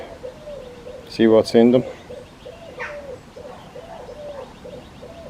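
A wood pigeon in a garden gives a steady series of soft, low coos in a regular rhythm throughout, while a person briefly talks partway through.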